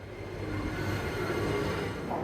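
Trains running through a Beijing subway station at the junction of Line 1 and Line 10 make a steady, loud, low rumble that fills the whole stretch without a break, with no voices.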